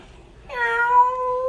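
A person voices a single drawn-out imitation of a cat's meow, tonal and steady, rising slightly then holding, close and clear over quiet background.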